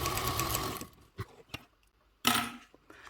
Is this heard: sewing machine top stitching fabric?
yes